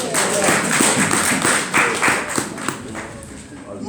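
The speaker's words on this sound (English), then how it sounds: "Can you clap for Jesus now?" A church congregation claps for Jesus during a sermon. Scattered, lively clapping runs for a few seconds, mixed with voices and crowd noise in a reverberant hall.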